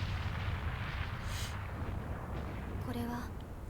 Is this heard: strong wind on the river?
no